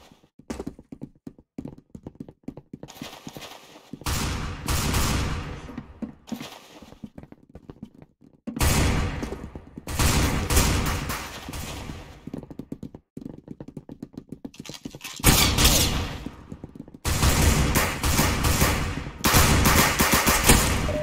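Gunfire in the Roblox shooter Arsenal: rapid automatic bursts and repeated shots in loud dense volleys, separated by short quiet gaps, with no talking over them.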